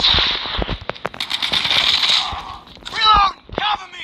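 A frag grenade explosion in COD Mobile comes as a burst of crackling blasts and debris amid ongoing battle noise, with in-game voices shouting over the combat.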